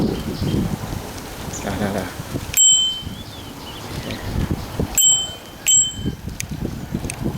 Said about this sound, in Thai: กระดิ่งครับ